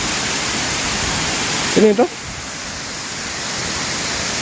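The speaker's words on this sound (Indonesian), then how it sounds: "kita sudah sampai guys di air terjun Lama Sua" Lamassua waterfall in Bone, South Sulawesi, a steady broad roar of falling water filling the air, with a brief spoken word from someone standing close.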